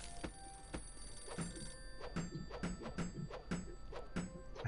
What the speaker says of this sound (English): Are you going to pick up the fucking phone or what?